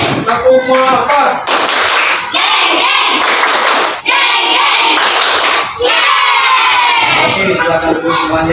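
A standing group in a school supervision session performs the 'tepuk motor' clapping chant, loud bursts of rhythmic claps and shouted chanting voices that stop and restart in several blocks, close and energetic throughout.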